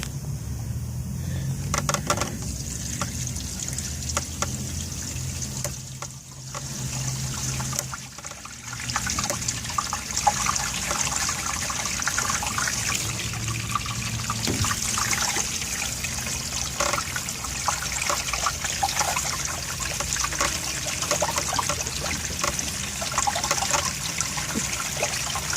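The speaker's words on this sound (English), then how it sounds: "So I'm gonna open this right here, let the water go." Water draining from the toilet holding tank of a travel trailer after a valve is opened, a continuous trickling and splashing flow that carries on steadily for the whole stretch at moderate loudness, with no talking.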